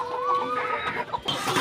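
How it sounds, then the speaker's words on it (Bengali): Pet chickens cluck close by in a short burst of soft, rising calls, with a few overlapping voices from the flock. "দেখো আমাদের এই মুরগিগুলো লেজগুলো খেয়ে ফেলছে"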